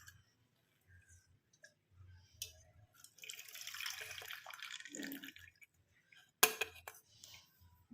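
Dark herbal decoction with turmeric is poured through a filter, giving a soft splashing trickle that swells in the middle, then a sharp clink and a few faint drips, with no talking.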